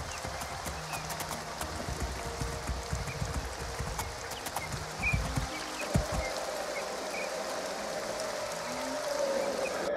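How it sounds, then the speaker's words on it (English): Rain falls steadily in the Two Worlds video game, a continuous broadband hiss with scattered patter, while hoofbeats clip-clop through the first half under the game's ambient sound. "It's raining."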